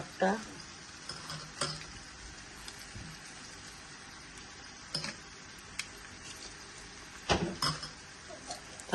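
Broken dried chillies, four of them, frying in hot oil in a pan during Bangladeshi home cooking: a soft steady sizzle with sharper crackles and spits at intervals, close and fairly quiet, with no talk.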